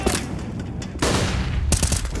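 Rapid bursts of gunfire in CS:GO, the sharp crack of an AWP sniper rifle mixed with quick pistol shots, loud and close in three dense volleys with no talk.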